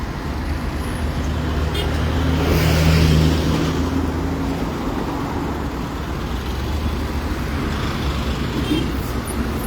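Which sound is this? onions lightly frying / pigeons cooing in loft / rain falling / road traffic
road traffic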